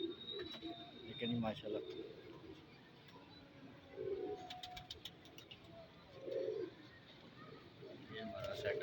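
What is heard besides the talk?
pigeons cooing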